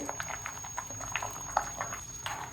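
Crab curry made with chimbori crabs bubbles in a pot, giving a soft, steady patter of small popping bubbles, faint and close with no talking.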